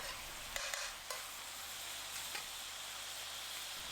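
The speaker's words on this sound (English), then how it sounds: "cook the wine until it's nearly all the way gone over medium heat" White wine reducing over medium heat in a pan of meat and vegetables for a tater tot casserole, giving a steady soft sizzle with a few sharp scraping clicks of a flat spatula early on.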